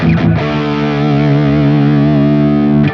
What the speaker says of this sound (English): So some gain on the bridge pickup.